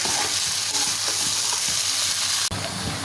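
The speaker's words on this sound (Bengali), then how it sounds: "সবজির সঙ্গে চাউমিনটা আমি ভালো করে ভাজা করে নেব।" Chowmein noodles with vegetables and chicken stir-fry in a hot pan, with a steady loud sizzle and the scrape of stirring throughout and one abrupt sharper clatter near the end.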